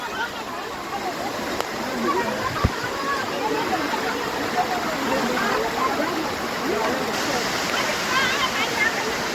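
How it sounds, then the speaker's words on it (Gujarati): Heavy forest waterfall during a downpour, a dense continuous roar of falling water with steady rushing spray, close and loud throughout with no clear breaks. "આટલો સરસ ધોધ પડે છે"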